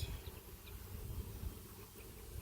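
Honey bees fill a hive of tens of thousands with a faint, continuous low buzzing hum, steady throughout with no talk.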